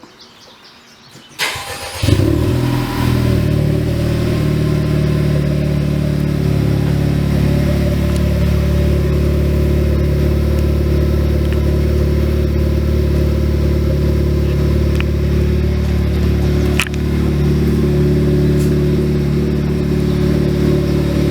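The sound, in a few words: sports car cold start with aftermarket exhaust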